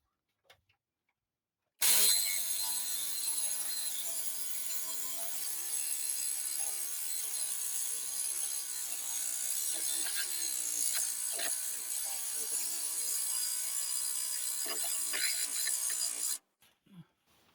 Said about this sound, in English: Dad using the Sawzall.